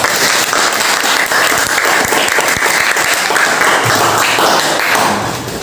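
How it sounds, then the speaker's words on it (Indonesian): Loud, close applause from a classroom of students after their presentations, a thick continuous patter with a few heavier thumps mixed in, tapering slightly at the very end. "Beri tepuk tangan untuk kita semua"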